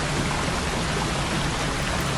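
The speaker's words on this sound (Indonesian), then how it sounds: "Sungainya kecil tapi airnya tetap mengalir walaupun sedikit ya guys" Soft, even rush of a small river stream flowing gently near a campsite at Sekipan, Tawangmangu, a constant close hiss of water with no voices.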